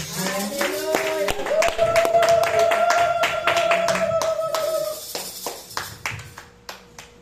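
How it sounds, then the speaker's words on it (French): A church congregation claps together in a dense patter while voices sing or call out a sustained tone; the clapping thins to scattered claps at the end. "Nous allons applaudir notre bergère."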